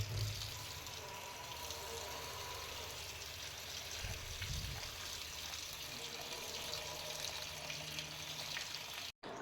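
Water poured into a cooking pot over freshly washed soybean pods in a home kitchen, a steady close splashing and trickling rush that runs unbroken for about nine seconds, then cuts off abruptly.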